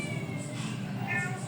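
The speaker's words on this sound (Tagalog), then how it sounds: "nag-iingay siya kasi nga nakakita siya ng ibang pusa" A pet cat named Blue meows at the sight of another cat, with short, faint cries over a steady background hum.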